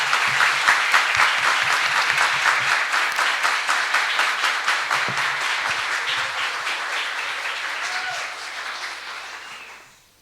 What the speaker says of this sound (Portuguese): pedir uma salva de palmas aí a todos